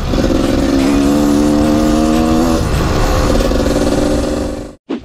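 Gas Gas EC 250 enduro motorcycle riding along a trail, its engine droning loudly and steadily with shifting revs throughout, then cutting out abruptly near the end.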